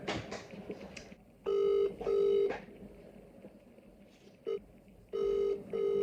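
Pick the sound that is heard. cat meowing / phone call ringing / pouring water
phone call ringing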